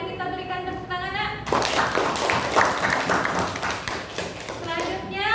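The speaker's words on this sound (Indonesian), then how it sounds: "Mari kita berikan tepuk tangan, Nak." Classroom applause for the first student group's presentation, a burst of many hands clapping that starts abruptly after a spoken voice and carries on steadily, with voices over it.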